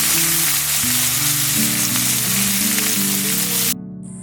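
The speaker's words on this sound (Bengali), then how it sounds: "ফোড়নগুলো হালকা লাল হয়ে আসার পর এবার লাউ ডাঁটাগুলো এর মধ্যে দিয়ে দিল" Bottle gourd stalks dropped into hot oil with cumin and dried red chilli, a loud close sizzle with low droning hum underneath, cutting off abruptly near the end.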